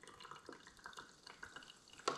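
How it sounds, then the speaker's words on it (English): Coffee dripping through a camping coffee maker at a campsite, a quiet sparse patter of small drips close by, with a brief louder clink near the end and no talk. "Can you hear that caffeine dripping?"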